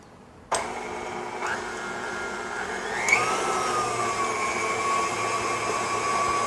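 An electric mixer starts up and whirs steadily through cookie dough with vanilla for white chocolate cranberry pistachio cookies, its motor pitch shifting once as the speed changes, loud and continuous with no talk.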